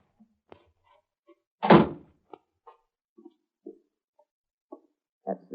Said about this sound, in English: That's the cellar door.